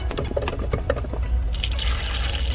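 Cranberry juice pours steadily into a glass, gurgling and splashing up close, then shifts to a brighter, fuller rush as the pour of water begins.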